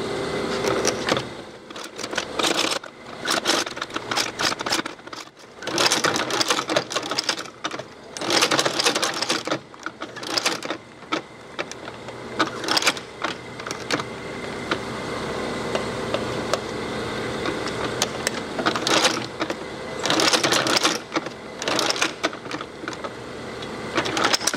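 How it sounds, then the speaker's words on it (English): A sewing machine stitching a leather holster runs in repeated bursts, rapid mechanical stitching starting and stopping, with quiet gaps of handling between runs. "Now it's back to the sewing machine."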